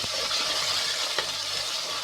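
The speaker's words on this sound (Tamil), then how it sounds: "வெங்காயம் பாதி வதங்கிடுச்சுங்க, இன்னும் கொஞ்சம் வதங்கட்டும்" Onions sautéing in a pan for thattaipayaru kulambu, a steady broadband sizzle with faint stirring scrapes, close and continuous with no talk.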